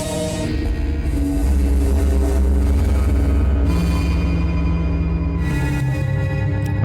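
A horror soundscape run through a Trash 2 convolver gives a dense, metallic, droning wash with layered resonant tones and a rumbling low end, loud and continuous with no speech.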